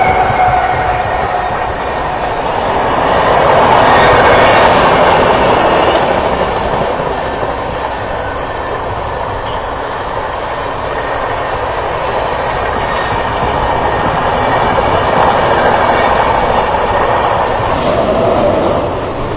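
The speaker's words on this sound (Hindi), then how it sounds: "पटना कोटा एक्सप्रेस और ये लीजिए अब पटना कोटा बिल्कुल 1:30 में हमको ओवरटेक कर रही है।" The Patna Kota Express overtakes on a parallel track before dawn, a loud, sustained rumble of passing coaches with rhythmic clickety-clack of wheels and a faint squeal, swelling and easing without talk.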